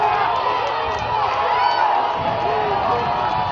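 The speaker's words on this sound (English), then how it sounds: "And this Wesleyan crowd is fired up." A Nebraska Wesleyan college football crowd in the stands cheers and roars in a sustained, distant wall of noise, with a broadcast commentator's voice faintly mixed in.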